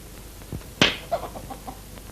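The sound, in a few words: person imitating a hen clucking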